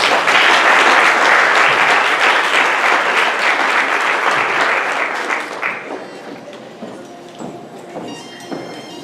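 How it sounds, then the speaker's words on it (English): Loud crowd applause at a high school grand march for a graduating class, dense clapping that fills the space, then thins and fades toward the end. "Let's give the class of 2017 a great big round of applause."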